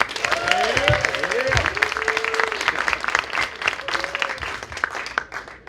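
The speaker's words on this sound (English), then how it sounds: "Round of applause for Loucas George." Audience applause at a television producers' panel at a festival, steady clapping with scattered cheers and whoops, close and full before tapering off at the end.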